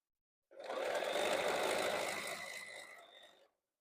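A sewing machine stitches a quilt block in one steady, close run of about three seconds, its whirring motor starting abruptly and trailing off before stopping.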